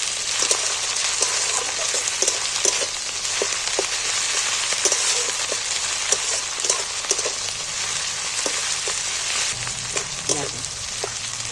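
Ginger and garlic paste frying in hot oil, a loud, steady crackling sizzle with scattered sharp pops throughout, close up and with no talk.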